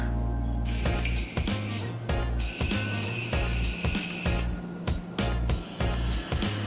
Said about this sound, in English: I'm going to use the Morphe Continuous Setting Spray to just set my face.